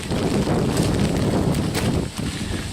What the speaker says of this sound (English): Wind keeps blowing my umbrella,